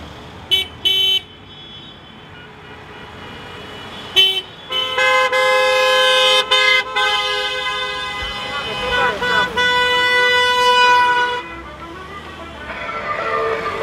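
Car horns from a protest caravan of vehicles leaving the Mugazuri industrial estate, held by repair-shop workers in a contract dispute, honk in long overlapping blasts after a few short toots, loud and near, with voices talking at the start.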